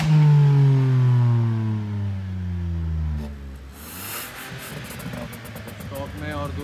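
Car with a Stage 2 remap and custom resonator exhaust revving up loudly nearby, a deep rising engine note that drops away and then picks up again into rougher, more clattery revs.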